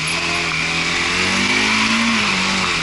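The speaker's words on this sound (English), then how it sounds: "I'm revving up like I mean it" A Bajaj Dominar 400 motorcycle engine revs hard while riding in the rain, a loud close drone whose pitch climbs and holds over busy traffic wash.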